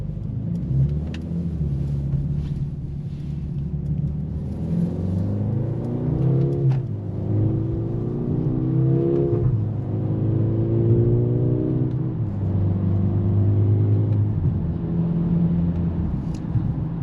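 A 2025 Mercedes-AMG GLB 35 accelerates in manual mode through paddle-shifted gears, its engine droning and rising in pitch in repeated climbs with smooth dips at each shift, heard steadily from inside the cabin.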